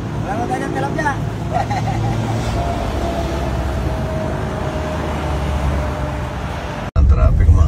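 Steady, close road traffic din of cars and buses near Silang, Batangas, a continuous engine and tyre rumble filling the whole stretch, with a louder surge right at the end.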